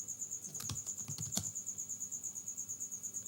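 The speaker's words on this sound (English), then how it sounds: "I'm gonna type 6" Brisk, close clicks of keys on a computer keyboard come in a quick cluster while entering numbers into a calculator program, over a steady high background whine.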